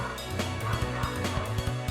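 Dogs barking close by in a rapid, uneven series of short yips and woofs over steady background game music.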